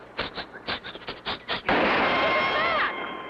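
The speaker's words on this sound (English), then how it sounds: "Someone's shooting at us." Cartoon gunshots on a deserted beach: a quick series of about eight sharp, close pops, then a sustained burst of noisy blast and whistling tones that trails off.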